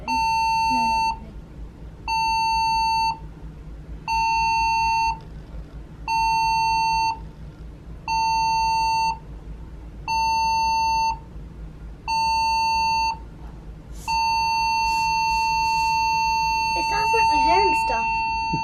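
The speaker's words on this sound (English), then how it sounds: "you will hear the general alarm, which is 7 short blasts, followed by 1 long blast of the ship's whistle" A cruise ship's general alarm sounds seven short, evenly spaced beeps followed by one long continuous tone, with faint voices near the end.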